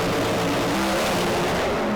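A drag racing car's engine revs hard against the first stage of a two-step rev limiter, a loud, steady, buzzing drone with a faintly stuttering, rising pitch and no talk.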